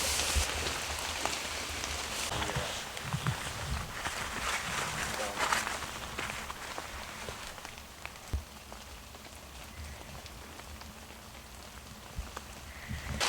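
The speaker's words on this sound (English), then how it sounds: "It said 12 o'clock, it's less chance of rain, but it hasn't really let up a whole lot." Steady rain patters on surfaces and gear outdoors during an elk hunt in Washington, a dense close hiss with scattered drops and occasional footstep-like thuds.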